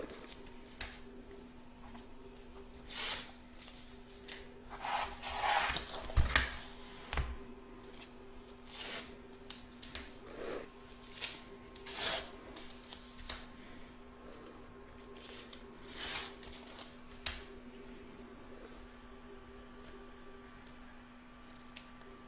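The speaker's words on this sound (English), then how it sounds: "Now we're going to trim up all the excess fabric," Scissors trim excess fabric from a machine-embroidered baby bib in an embroidery hoop, making a series of quiet, close snips and rustles at irregular intervals over a low steady hum, with no talking.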